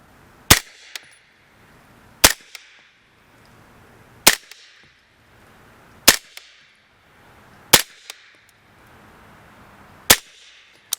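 Six rifle shots fired outdoors for velocity testing ring out one at a time at intervals of about two seconds, each a sharp, loud crack followed by a short fading echo.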